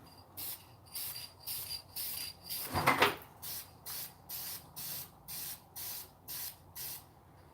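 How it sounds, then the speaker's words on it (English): An aerosol spray can hisses in about a dozen short, regular bursts at close range during a repair job, with a louder knock or scrape partway through. "since I sprayed it, you don't want to spray too much or it starts running everywhere"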